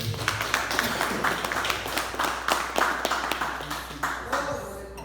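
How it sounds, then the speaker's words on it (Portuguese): A church congregation claps during a Portuguese-language sermon, with steady rhythmic applause spread through a reverberant hall under ongoing voices. "Aplauda o nome do Senhor."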